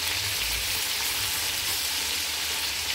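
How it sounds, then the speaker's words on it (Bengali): Koi fish frying in hot oil in a home kitchen pan, a loud, steady, close sizzle with dense spitting crackle throughout and no talk. "এক পিট করে ভাজা হয়ে গেছে। এবার উল্টে দিই মাছগুলো।"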